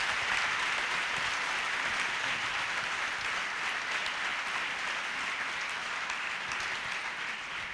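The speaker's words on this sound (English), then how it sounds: "I think we owe all of our panelists a round of applause" Sustained audience applause for a panel at the Apartheid Museum, dense and steady clapping from a large crowd filling the whole stretch, with no talking over it.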